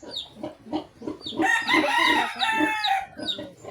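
A hen clucks repeatedly up close, breaking into a louder drawn-out squawking call midway before settling back to short clucks.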